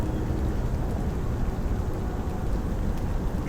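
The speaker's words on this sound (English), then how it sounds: "Trying to shelter out of the rain a little bit under this tree." Steady rain falls outdoors by a lake, heard from beneath a tree as a dense, constant patter and hiss with no pauses and no voices.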